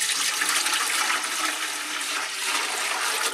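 Water pours steadily into a large pot for a turkey brine, a continuous bright rushing splash that stays loud and close without pause.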